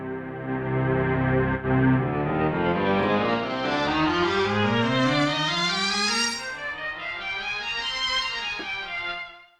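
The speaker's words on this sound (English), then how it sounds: "we go to the last sample set, which is mellotron" A mellotron sample set played on a Waldorf Blofeld synthesizer gives a sustained tonal note that sweeps steadily upward in pitch over several seconds, then eases back down and fades out, heard alone.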